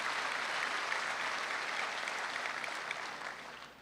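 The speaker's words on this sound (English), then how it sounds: "she deserves a big clap" Audience applause at a Christmas gathering, a dense even patter of many hands that holds steady and then slowly fades toward the end, no voices over it.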